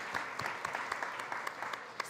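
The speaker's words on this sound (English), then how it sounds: "Round of applause for them, please" Steady audience applause at a food policy summit panel, dense clapping from a crowd filling the room with a few sharper individual claps standing out, continuous throughout with no talk over it.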